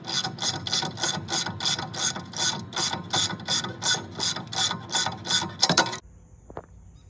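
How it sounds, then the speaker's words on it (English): A ratchet tightening U-bolts on a 2023 Chevy Colorado clicks rapidly in steady, rhythmic bursts for several seconds, close by, then stops with a brief metallic clank. "Now we just gotta tighten this side of the U-bolts, and we're good to go."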